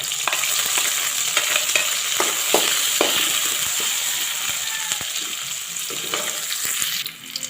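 Onion hits hot oil in a home-kitchen pan for prawn sinigang, sizzling loudly and steadily up close while a utensil clicks and scrapes in scattered taps.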